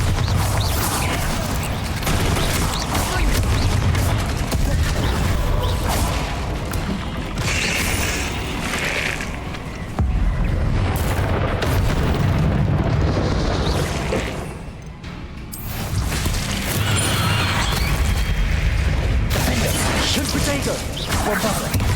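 Repeated Bombarda spell blasts in Hogwarts Legacy battle: heavy booms and crashes pile up over a long, loud, chaotic stretch of combat effects, with one brief dip in intensity midway.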